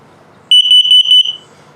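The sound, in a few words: carbon monoxide alarm demo beeping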